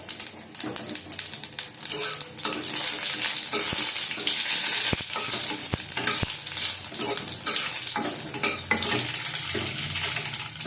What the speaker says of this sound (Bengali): দেবো 5 ফোড়ন, 1 চামচ 5 ফোড়ন দিলে।